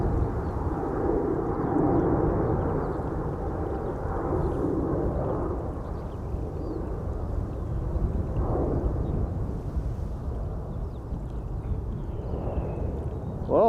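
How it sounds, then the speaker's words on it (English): Singapore Airlines Airbus A350-900 at Schiphol Airport, a steady broad jet-engine rumble heard from a distance, continuous and fairly even throughout, with wind noise mixed in. "Singapore Airlines Flight 323 to Singapore, the A359."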